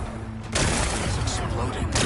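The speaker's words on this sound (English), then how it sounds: "Gotta blast away some rocks, so I can expose the power cell." Explosions blasting away rocks in the video game Horizon Forbidden West, a sudden loud blast that erupts into sustained, dense rumbling and crackling debris, close and filling the scene.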